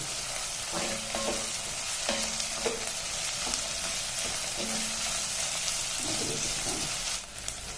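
Slit green chillies and curry leaves frying and being stirred in hot oil for a Chettinad chicken roast, a steady close sizzle with occasional spoon scrapes and stirring clatter throughout.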